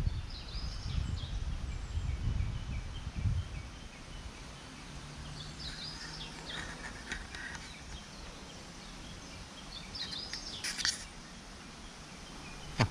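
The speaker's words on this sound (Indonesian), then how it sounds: "Banyak suara burung ya guys." Birds singing near Gifu Castle in Japan, scattered faint chirps and short calls at a distance over low outdoor background noise, with some louder rumbling early on.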